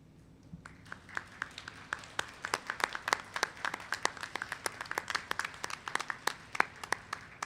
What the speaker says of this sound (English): take a moment to stand and give some applause to the family and friends in the auditorium